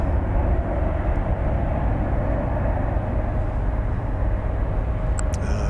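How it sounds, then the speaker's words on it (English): An Airbus A321 airliner at DFW Airport at night gives a steady, loud, broadband engine roar that holds unbroken throughout, with a couple of faint ticks near the end. "Airbus A321."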